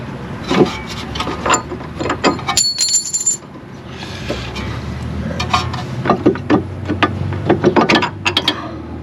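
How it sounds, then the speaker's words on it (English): A suspension bolt is worked out of a Magnum near the upper control arm: close metallic clinks, scrapes and ratchet-like clicks in uneven bursts. "I am going to pull this bolt out now"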